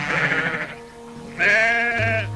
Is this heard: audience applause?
no